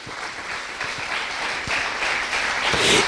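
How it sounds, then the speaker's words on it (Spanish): A congregation claps during a church service, producing a brief, steady wash of applause that builds slightly toward the end. "Dale ese aplauso al Rey."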